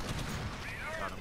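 Gunfire in Alien Swarm, rapid bursts of weapon fire with whistling tonal game effects on top, loud and continuous while a voice talks over it.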